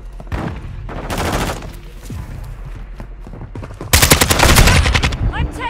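Bursts of automatic machine-gun fire in Call of Duty: Modern Warfare II, rapid rattling volleys through a firefight that turn louder and denser toward the end, with distant shots and faint radio chatter underneath.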